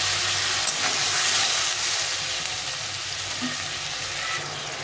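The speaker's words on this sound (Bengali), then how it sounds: "এখন এই পেস্টটা দিয়ে দেবো ওর মধ্যে। মশলাটা দিয়ে ভালো করে কষিয়ে নিতে হবে।" Spice paste frying in a pan with tomato for a cauliflower fish curry, a loud, steady, close hiss of sizzling oil with barely any stirring, no talking.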